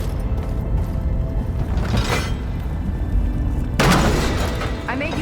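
A ballista fires in the Horizon Forbidden West game during the Burning Shores expansion, giving a mechanical creak and deep boom with a sharp cracking release near the end, amid loud game ambience while characters speak.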